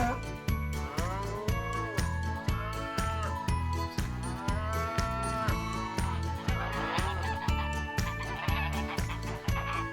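Geese honk repeatedly over a steady, thumping musical beat, their calls rising and falling throughout.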